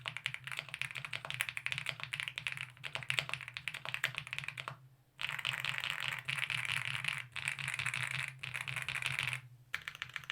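Typing on a Chaosera Heracles 80 mechanical keyboard fitted with matcha latte switches gives rapid, close, flat clacks in quick bursts, with a brief pause midway and another near the end, with no voices.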